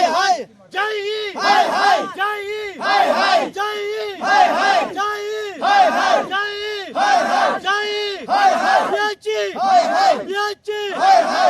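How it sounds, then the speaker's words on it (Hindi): Protesters in Kulgam demonstrating against the Jal Shakti department, a loud crowd chanting slogans in rhythmic repeated bursts with brief pauses between. "कुलगाम में लंगर दमहाल हांजीपुरा के लोगों द्वारा जल शक्ति विभाग के खिलाफ जोरदार प्रदर्शन किया गया।"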